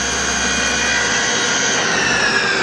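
A CNC bed mill spindle spins at about 4000 RPM, giving a steady high whine with layered tonal hum that holds constant, close and fairly loud, with no talking.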